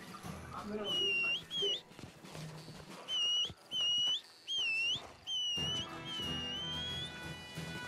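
Repeated rising two-note horse whistles at a steady pace in Red Dead Redemption 2 Online, with faint hoofbeats and a bit of background talk between them.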